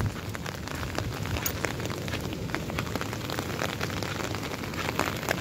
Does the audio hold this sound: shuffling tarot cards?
no